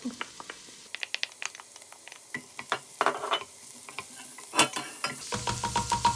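Chopped carrots cooking with onion in an oiled pan for lasagne, scattered sizzling pops and scraping stirs of a utensil, building to louder bursts of frying near the end, close and unaccompanied by talk.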